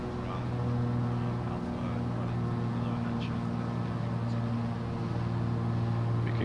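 A piston aircraft engine in Microsoft Flight Simulator 2020 drones steadily at cruise power, 23 inches of manifold pressure and 2300 RPM, a constant layered hum that holds evenly from start to finish.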